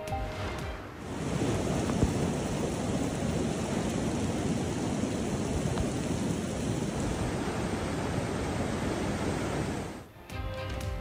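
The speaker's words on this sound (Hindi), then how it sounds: "अमरीकी रियासत कैलिफोर्निया में बारिशों से निज़ामे ज़िंदगी दरहम बरहम।" Heavy rain pours down in California during a storm, a dense and steady broadband roar that holds for about nine seconds and then stops abruptly. A faint high whine runs over part of it, and no voices are heard.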